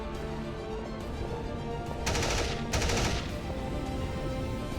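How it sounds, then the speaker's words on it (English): Heavy rifle fire from a sound effect rings out in two short, loud bursts of rapid shots above a dense, steady background of battle noise. "he opens fire with his heavy rifle"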